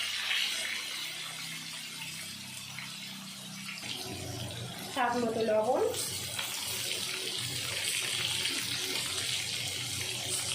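Water poured from a tap or jug into a cooking pot of fried potatoes and spices for a thin shol fish curry, a steady splashing gush lasting a few seconds amid kitchen background noise.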